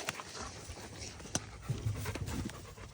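A dog pants quickly and steadily close by, with some rustling and handling noise around it.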